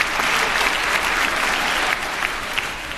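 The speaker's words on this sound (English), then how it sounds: "Let's give this cast another round of applause." A theater audience applauds a stage cast after a Charles Dickens show, steady dense clapping filling the room from start to finish at an even, loud level.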